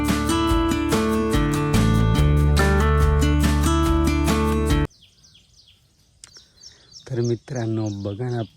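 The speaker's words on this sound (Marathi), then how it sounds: "पक्ष्यांचा कसा किलबिलाट चालला आहे जंगलात म्हणजे सकाळी सकाळी एकदम" Morning birdsong in a village forest: after loud music cuts off, faint, scattered chirps come through before a voice starts talking over them.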